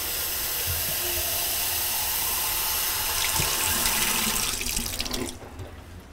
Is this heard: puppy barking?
no